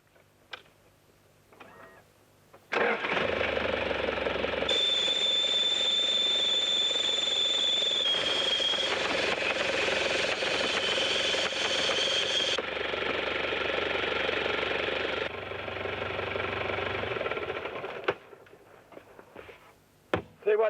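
A vehicle engine idles steadily for about fifteen seconds, its exhaust inflating a power jack bag to lift the vehicle out of an outback sand bog. The drone is loud and close, with a thin whine running over it.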